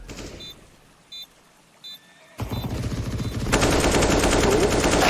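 Counter-Strike: Global Offensive gunfire: a few short separate bursts, then a sustained rapid automatic spray that grows louder and denser, close and dominant with no talk over it.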